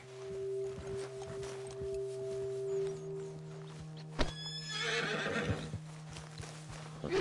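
A horse in the Red Dead Redemption 2 video game whinnies clearly in a long call, followed by a sharp thunk and then close, rhythmic clip-clopping hooves, with ambient game sounds beneath.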